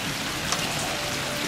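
Heavy rain pours steadily outdoors at a military helicopter display ground, a dense, unbroken hiss of drops on surfaces with one faint brief tap, loud and close with no voices.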